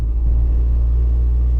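A SEAT 1430 car engine runs steadily with a deep, even rumble, close and loud, with no voices.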